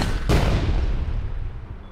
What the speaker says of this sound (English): Try and take him out with the sniper rifle.